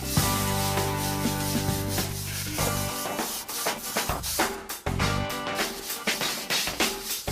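A stiff Tampico fibre brush scrubs cleaning material into stone masonry, giving close, rhythmic rasping strokes that come in uneven bursts. A humming tone fades out in the first few seconds.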